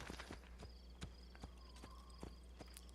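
A horse's hooves clip-clop at a walk in the video game Assassin's Creed II, a steady run of sharp, evenly spaced hoof strikes over a faint game background with no talking.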